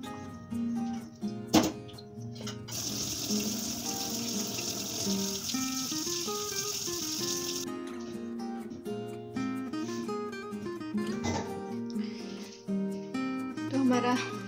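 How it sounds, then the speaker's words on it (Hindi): Water is poured off a pot of cooked rice in a home kitchen, a gushing splash that runs for a few seconds amid kitchen clatter and background music. "मैं बस राइस का पानी निकालूँ"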